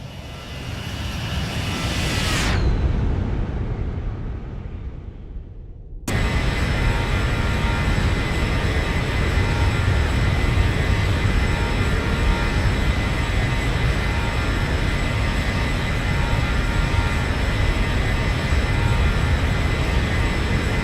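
A Boeing 737 passes in a flight simulator, a loud, broad jet engine roar that swells, drops into a few seconds of near silence, then returns as a steady, sustained drone.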